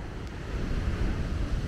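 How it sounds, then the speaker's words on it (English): Ocean surf rolling onto a beach beside a large zoo park in Puerto de la Cruz, Tenerife, heard as a steady broadband wash with wind buffeting the microphone, swelling slightly louder toward the end. "nice waves."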